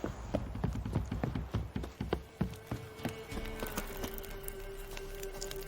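Roach, Geralt's horse in The Witcher 3, clip-clops along with quick, close hoofbeats in an uneven trotting rhythm, slowing toward the end as a sustained tone rises underneath.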